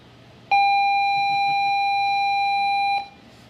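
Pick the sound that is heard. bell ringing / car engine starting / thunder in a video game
bell ringing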